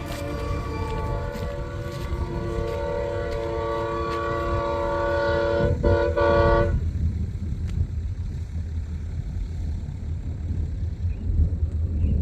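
A train on an outback line in Australia sounds a long sustained horn over steady rumbling rail noise, the horn cutting off partway through while the heavy rolling of the wagons continues loud and close.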